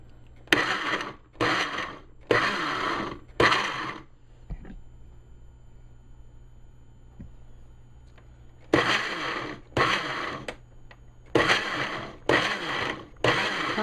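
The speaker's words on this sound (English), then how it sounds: "I got the pepper in there, the vinegar, and I'm going to pulsate it to start the grinding process" A blender pulse-grinding habanero peppers with vinegar: four short loud whirring pulses, a quiet pause, then four more pulses, each burst starting sharply and cutting off abruptly.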